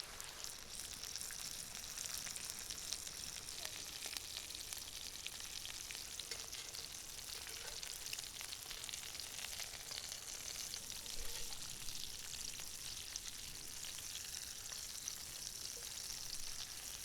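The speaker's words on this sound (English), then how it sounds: "We sear them on both sides until golden and crisp." Food searing in a pan until golden and crisp for a Szekler breakfast, a steady faint crackling sizzle that carries on evenly throughout with no talk.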